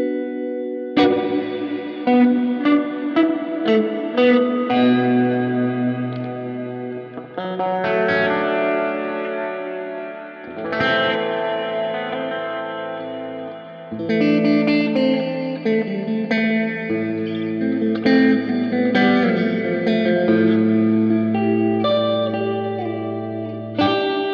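Electric guitar played through a Flamma FS02 spring reverb pedal, with chords and single notes ringing into a washy, splashy reverb tail that fills the gaps, loud and steady with no voices.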